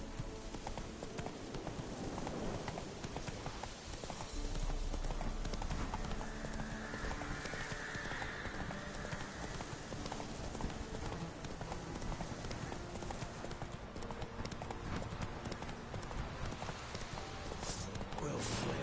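Hooves of Roach, the horse in The Witcher 3: Wild Hunt, clip-clop steadily under dense game sound with music, a neigh, and voices talking over it.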